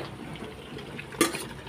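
A bowl is set upside down over a pot of goat meat braising on the stove, making one brief, light clink against the rim amid faint kitchen sizzle.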